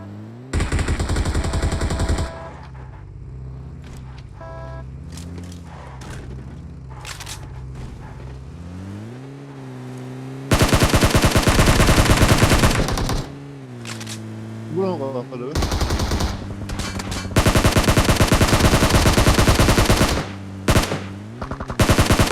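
Bursts of gunfire crackle in a PUBG Mobile match, with long, loud stretches of rapid shooting broken by quieter gaps while players talk over it.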